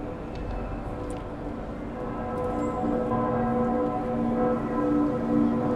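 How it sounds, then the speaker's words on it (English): Church bells of Cologne Cathedral ringing right outside the station, several bells sounding together in a sustained, layered peal that swells slightly louder, heard at a distance over city hum. "You can even hear the bells going."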